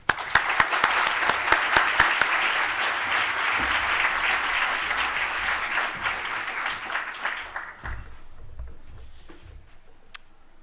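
An audience applauds to welcome a speaker at a talk on the science of Pixar's Inside Out, with loud sustained clapping for about eight seconds that then thins to a few scattered claps.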